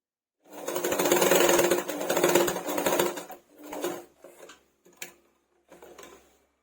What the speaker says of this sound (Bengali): অন্য রঙের কাপড় নিয়ে এরপর থেকে সেলাই করে নিচ্ছি